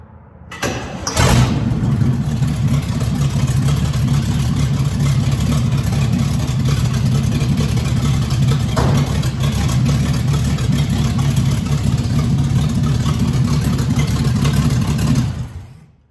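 A modified car engine fitted with new headers, plugs and wires cranks and catches, then settles into a loud, steady rumbling run close by for about fourteen seconds before cutting off.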